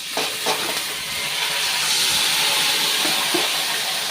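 Marinated chicken hits browned onions in a hot pan, with a steady loud sizzle and frying hiss plus a few soft stirring scrapes, close up with no voices.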